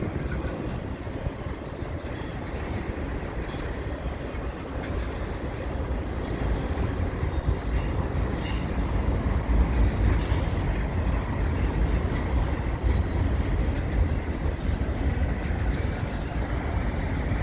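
A long CP freight train of mostly empty cars rumbles past below a bridge, a steady, loud, continuous roar of wheels on rails with faint squeals and clatter and no voices throughout.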